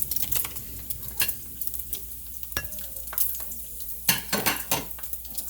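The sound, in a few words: turkey bacon frying in a pan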